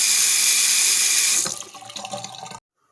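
Water gushes loudly from a tap, then tapers off into trickles and drips before stopping abruptly.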